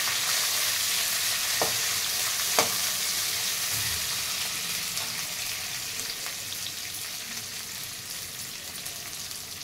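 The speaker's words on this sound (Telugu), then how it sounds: "ఆనియన్ వేస్తున్నానండి. ఆనియన్ వేసాను, ఫ్రై అయింది." Steady crackling sizzle of onions frying in a pan, continuous and close, with a few brief clinks of stirring.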